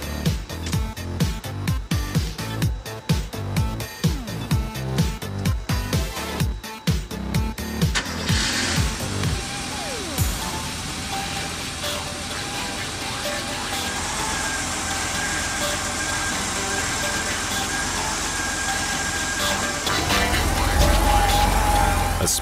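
A classic Porsche engine in a workshop cranks with rapid repeated pulses, catches, and settles into a steady loud idle that rises slightly near the end.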